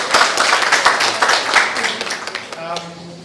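Audience hand clapping at a Capital Markets Authority event, a scattered round of individual claps that thins out toward the end as a voice starts speaking.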